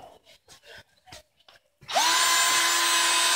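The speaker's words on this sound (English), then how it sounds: "Let me see that drill for a minute." Power drill on a fallout shelter construction site spinning up suddenly and whining steadily at high speed, loud and close, after a few seconds of people talking.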